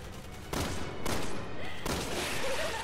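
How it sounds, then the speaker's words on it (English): Bursts of gunfire from the video game Resident Evil 6 during a boss fight, with loud shot volleys starting at about half a second and repeating in waves over sustained game noise. "Now, you have to shoot those yellow weak points on her tentacles."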